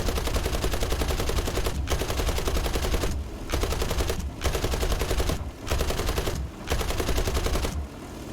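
Sustained heavy gunfire from the War Thunder air-combat game, loud and near, firing at an aircraft in long dense bursts that break off briefly several times before resuming.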